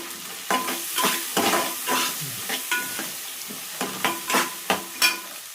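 Amaranth leaf curry frying in a pan with turmeric, heard up close as a loud sizzle broken by repeated scraping stirs from a spoon against the pan in uneven bursts, with no talking.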